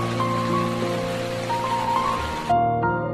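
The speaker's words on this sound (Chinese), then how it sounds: "不过，经过一整天露营搭建，小美的身体已经变得潮湿又疲惫，持续不断大雨拍打在身上" Heavy rain falls over a forest campsite with a car-tail tent, a steady dense hiss that runs throughout, joined by sustained tonal sounds and easing near the end.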